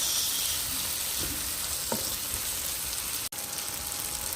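Tomato mixture for a salmon steak biryani cooks in a pan with a steady, soft hiss of simmering and frying, a few faint clinks, and no voices.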